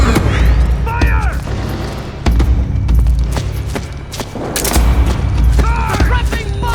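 Rapid bursts of gunfire and booming blasts from a Metal Gear Solid 4 firefight, loud and dense, with shouted voices cutting in over the shooting.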